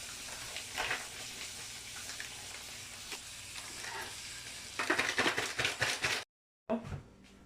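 Hot oil sizzles in a pan while burgers cook, a steady crackling hiss that swells into louder spattering bursts near the end before a sudden cut and a short return; a voice talks faintly underneath.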